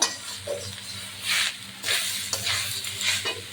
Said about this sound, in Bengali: নারকেল দিলাম, নারকেলটা একটু নেড়ে নেব